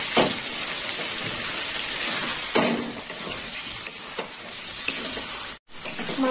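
Tomato paste sizzles and fries with chicken being sautéed for mocha chicken, a steady close hiss with occasional stirring scrapes and a brief break near the end.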